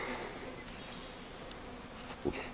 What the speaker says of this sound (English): That's a swarm that I caught this year, and this is a small split.